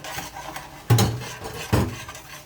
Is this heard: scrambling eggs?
yes